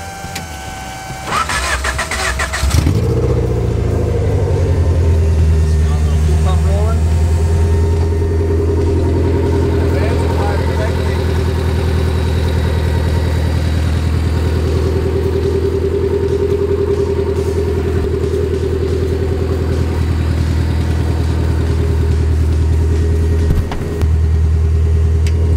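A Honda CRX mini stock race car engine cranks and fires up, then settles into a loud, steady, close idle with a deep rumble that runs to the end.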